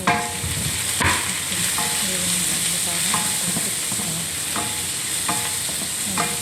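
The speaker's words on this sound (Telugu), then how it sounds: "కొంచెం బాగా వేయించుకోవాలి. కరివేపాకు, పచ్చిమిర్చి అన్నీ ఒకసారి" Curry leaves and green chillies frying in hot oil for cabbage fry, a dense continuous sizzle with occasional stirring scrapes and clinks, close and loud throughout, no talking.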